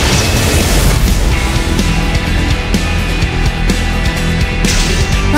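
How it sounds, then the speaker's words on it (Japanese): Cannon fire from the Cannoneer class in the mobile game Tree of Savior M: loud booming shots and crashes packed densely over a continuous, full game soundscape with no pauses. "キャノニアの大砲は決して外さない。"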